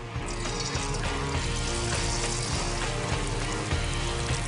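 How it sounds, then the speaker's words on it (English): Banana fritters fry in hot oil, sizzling and crackling steadily and loudly close up, a continuous frying hiss with no talking. "just drop a little touch into the oil and that should sizzle"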